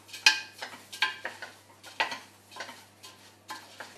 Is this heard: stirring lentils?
yes